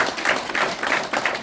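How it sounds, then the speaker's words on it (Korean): Brief burst of crowd applause at a press conference announcing the merger of two political parties, dense overlapping claps close by, continuous for about a second and a half with no talk over it. "우리 같이 해보는 박수 부탁드립니다"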